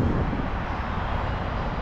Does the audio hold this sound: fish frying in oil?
no